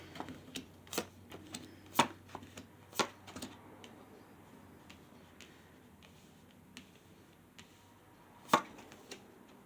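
Tarot cards are handled and shuffled at close range, giving scattered crisp taps and flicks spaced irregularly over a quiet background, with one louder snap near the end and no speech.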